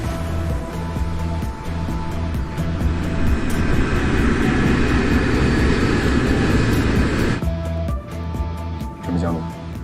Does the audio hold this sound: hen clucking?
no